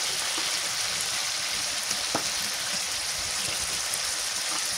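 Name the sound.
fish roe added to boiling spice mix, sizzling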